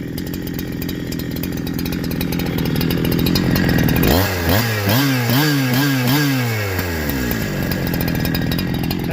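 A Farmertec Holzfforma G372 XP chainsaw fitted with an OEM Walbro HD12 carburetor idles close by, then is revved in several quick rising and falling bursts before settling back to a steady run.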